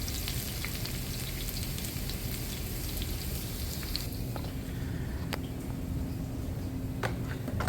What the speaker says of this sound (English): Getting that all nice and sizzling, coming together.